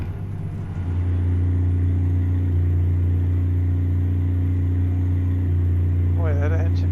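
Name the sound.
Western Star truck engine faltering, American Truck Simulator video game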